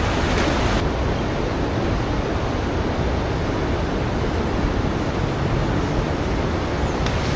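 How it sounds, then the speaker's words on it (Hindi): Steady, loud rush of a river flowing right beside a path near a Himalayan hill temple, a continuous broadband roar with no voices over it. "इस तरफ से बहुत ज़्यादा नॉइज़ आ रहा होगा आपको पानी का, क्योंकि पानी बह रहा है।"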